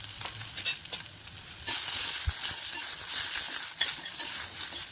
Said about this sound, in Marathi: तेलामध्ये सगळ्या भाज्या एकदम खरपूस भाजून घ्यायचे आहेत